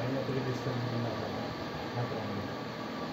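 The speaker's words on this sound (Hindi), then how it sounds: "कभी ये ऊपर पंखे चलने की आवाज" Ceiling fan running overhead indoors, a steady, unbroken whirring hum with a low drone that holds evenly throughout.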